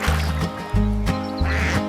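Ducks quack in a lively run of four or five loud, nasal calls, close up and rhythmic, set to a children's nursery rhyme.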